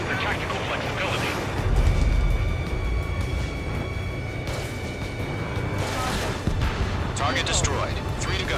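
Heavy explosions tear through an enemy target in the combat flight game Ace Combat 7, a dense wash of booming blasts and roaring jet noise that stays loud throughout, with radio voices talking over it.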